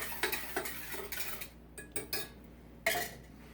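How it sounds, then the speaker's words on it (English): A spoon stirs a sugar mixture in a pot, clinking and scraping against the sides in quick, uneven strokes, close and clear with no talk. "I will continually stir this as it comes to a boil so the sugar doesn't settle to the"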